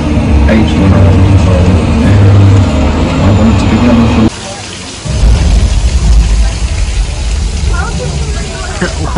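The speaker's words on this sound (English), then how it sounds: "It's raining." Heavy, steady rain roars throughout, with a brief dip in the middle before the downpour resumes just as loud.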